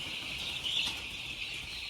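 Broiler chickens cluck faintly and steadily in a poultry farm in China, a soft continuous flock murmur with a slightly louder moment midway and no talking.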